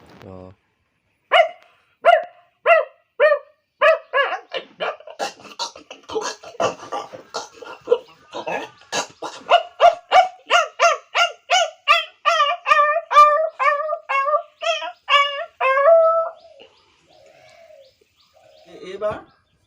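A man vocally imitates two dogs fighting, with a fast run of clipped, yelping barks and snarling cries that build in pace, loud and close, then trail off.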